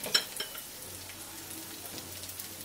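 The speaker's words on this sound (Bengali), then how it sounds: "দিয়ে দিচ্ছি এর মধ্যে মটরশুঁটি" Green peas go into vegetables frying in a pan for masala noodles, producing a soft steady sizzle with light stirring scrapes, one brief rustle at the start and a low hum underneath.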